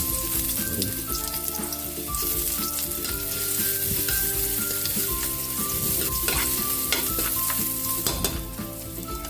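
Ginger and garlic frying in hot oil for ginataang isda, a dense steady sizzle with scraping stirs running throughout, close and loud, with no talking.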